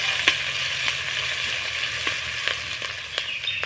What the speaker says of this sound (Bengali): নাড়াচাড়া করে ফোড়নটা ভেজে নেব।